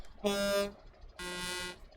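The horn of an old-model Mercedes truck sounds two separate blasts, each about half a second long, loud, close and brassy, with a short gap between them.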